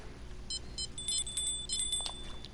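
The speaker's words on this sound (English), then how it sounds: "I hear number 4 beeping" A fishing rod bite alarm in the video game Fishing Planet: short electronic beeps repeating in quick bursts, a thin high tone holding under them, over a faint background hum.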